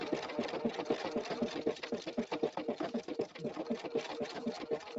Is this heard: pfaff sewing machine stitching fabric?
yes